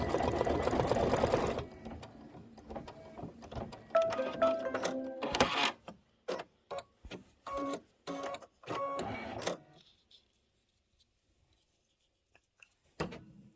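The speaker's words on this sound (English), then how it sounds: "we're 9 minutes into 22 minutes of stitching" A computerized embroidery machine stitches a Kimberbell table topper. A loud, fast, steady buzz of needle strokes opens, then trails into scattered mechanical clicks and taps before near silence.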